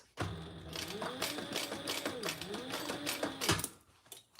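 Sewing machine stitching back and forth over D-rings on a flatbed, a steady close mechanical whir with rapid needle ticking for about three seconds, pausing briefly before starting again.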